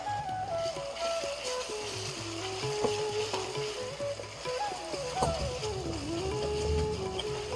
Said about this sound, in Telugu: ఇవన్నీ కొంచెం పచ్చి వాసన పోయేంత వరకు బాగా వేపుకోవాలి